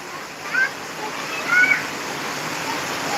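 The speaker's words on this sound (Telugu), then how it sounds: "వర్షం బాగా పడుతుంది" Heavy rain pours in a steady, even hiss close by, unbroken throughout, with a couple of faint brief high chirps rising above it.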